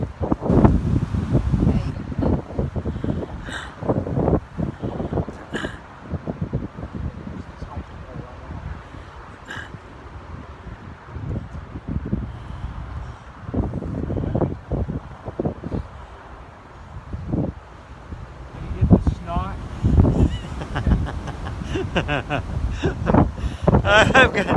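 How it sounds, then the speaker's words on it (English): A strong, cold northwest wind on the Appalachian Trail roars and buffets the microphone in continuous heavy gusts, loud and close, with someone talking over it. "Wind is whipping out of the northwest at about 30 miles an hour."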